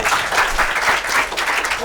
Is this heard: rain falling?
no